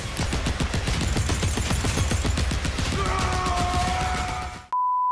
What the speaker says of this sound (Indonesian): pengen denger apa suara tembakan deket dulu gitu